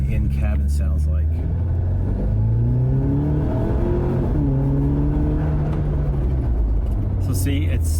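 A Jeep Wrangler 2.0L turbo fitted with an aFe Mach Force-XP Hi-Tuck exhaust, heard from inside the cabin as it accelerates on an open road: a steady, smooth engine drone whose pitch climbs and falls, loud and continuous throughout.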